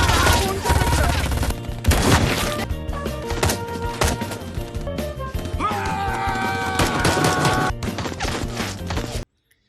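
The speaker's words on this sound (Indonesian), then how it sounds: "kendaraan tersebut dihadang oleh sekelompok perampok bersenjata dan terjadilah aksi tembak-menembak" Rapid bursts of film gunfire in a shootout with armed robbers, dense and loud, cracking over a music score with clattering impacts until the sound cuts off abruptly near the end.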